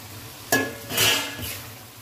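Green vegetables for Indian-style fried rice hit a hot pan and stir-fry, with a sudden utensil clack followed by a brief swelling sizzle and scraping, close and with no talking.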